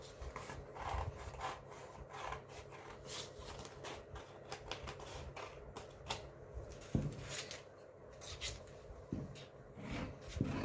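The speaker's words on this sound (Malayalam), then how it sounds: "അപ്പം ഇത് നമുക്കൊന്ന് കട്ട് ചെയ്തെടുക്കാം." Scissors cutting a fabric sleeve piece for sewing, faint close snipping and rustling of cloth in irregular strokes, quiet and heard alone.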